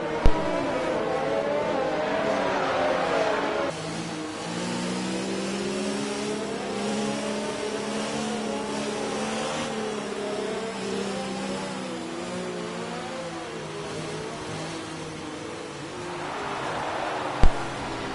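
Race cars in the F1 2019 video game circle the track behind a safety car, engines droning and shifting pitch steadily at moderate volume, with a couple of brief sharp clicks at the start and end.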